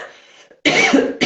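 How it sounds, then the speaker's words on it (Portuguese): A few harsh coughs from a woman during a live talk, a short faint sound first, then two loud close bursts separated by a brief gap. "vou tossir um pouquinho"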